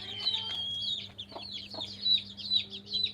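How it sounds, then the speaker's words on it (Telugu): Several chickens cluck and chatter softly nearby over a low steady hum, their calls repeating in short bursts. "కలర్ కలర్ కోళ్ళు ఉంటాయి చూడు"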